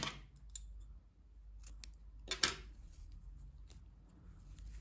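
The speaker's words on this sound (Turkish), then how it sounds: "İpliği kesiyorum." Scissors cut crochet yarn with a quick pair of crisp snips, close and clear, surrounded by soft handling clicks and a low room hum.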